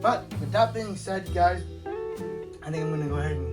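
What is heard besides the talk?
None of the usual background noises is heard.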